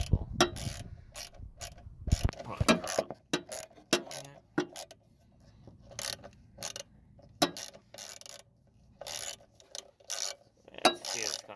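Quick ratcheting clicks from a socket wrench loosening a part on a 1996–2004 Ford Mustang, in short bursts of rapid clicking separated by pauses, close and fairly quiet.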